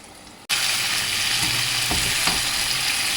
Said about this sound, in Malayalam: അവിടെ ഉള്ളി മൂത്ത് തുടങ്ങി. ഇനി തക്കാളി ഇതിലിടാം.